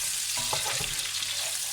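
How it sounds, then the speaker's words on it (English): Onion and chili drop into hot oil, setting off a steady close sizzle with a few sharper crackles and stirring clatter near the start. "Drop in the onion and the chili. Nice sizzle."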